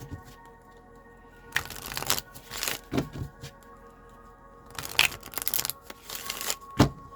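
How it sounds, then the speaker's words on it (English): Tarot cards are shuffled in several short, crisp bursts of riffling and sliding, separated by quiet gaps and heard up close. "give her a shuffle here"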